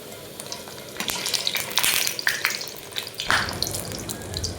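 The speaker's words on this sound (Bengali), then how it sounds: "পুরো লুচিটা আমি ঘিয়ে ভাজবো গপুর জন্য।" Luchi fry in homemade pure cow ghee with a bubbling sizzle, broken by a few clinks and scrapes of a utensil against the pan, close and fairly loud.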